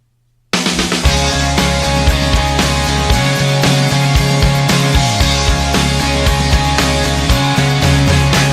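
Loud, dense rock music through a fast limiter with transient recovery, punchy kick and snare hits cutting through a heavily compressed, wall-like mix that stays even and powerful throughout.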